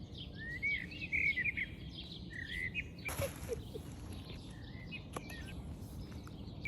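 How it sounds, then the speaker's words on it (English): Birds sing outdoors on a Finnish summer evening, bright chirps and warbling phrases repeating close by over a soft insect-like hiss, with no talking. "can we talk about the birds singing?"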